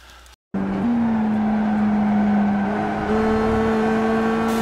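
A Mazda MX-5 race car engine in iRacing at Okayama revs up sharply after a brief pause, holding a high, strained whine as it accelerates hard.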